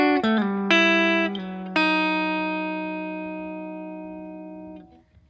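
A guitar plays a descending finger-picked pattern for a song. A few quick plucked notes lead into two stronger picks, then the last notes ring out and slowly fade over several seconds, close up and played alone.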